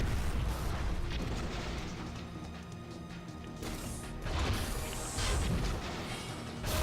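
Chaff grenades go off in Metal Gear Solid: The Twin Snakes, producing loud, dense rumbling blasts and crashes that fill the scene continuously, with bright bursts of crackle toward the end.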